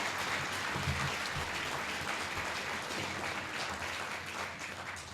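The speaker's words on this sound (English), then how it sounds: "you should all give yourself a round of applause" Applause from staff and families gathered at a real estate company's 20th anniversary celebration, a steady wash of clapping from a room of people, fairly distant and even, fading slightly toward the end.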